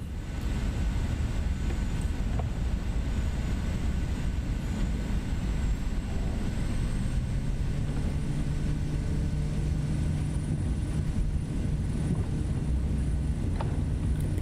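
In the MSFS 2024 flight simulator, a SimWorks Kodiak 100 single-engine turboprop runs at takeoff power, producing a loud, constant, broadband engine roar with a faint steady whine and a rising tone partway through.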